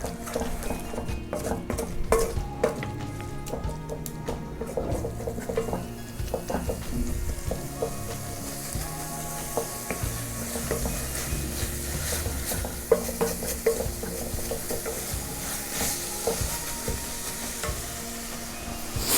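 Capsicum fries in a pan with a constant bright sizzle as a utensil stirs it, frequent scraping and clinking against the metal running close and loud throughout.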